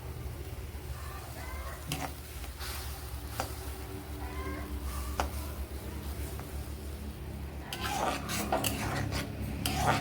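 A spoon stirs a cornflour mixture for a cauliflower varattiyathu, giving continuous close scraping and clinking against a bowl, with a busier burst of clatter near the end and no talk.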